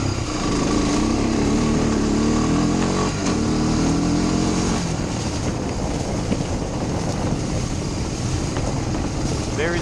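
A 25-year-old carbureted Honda Fourtrax 250X quad engine runs hard and loud throughout, a buzzing drone pulling up under load and then settling into a rougher steady note, with wind rushing across the microphone.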